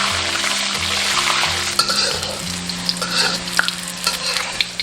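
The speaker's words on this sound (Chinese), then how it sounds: "留一部分油，下入提前煮好的鹌鹑蛋" Boiled quail eggs deep-frying in oil in a wok for a Minnan glutinous rice dish, a steady loud sizzle and crackle with occasional stirring clinks, no voices.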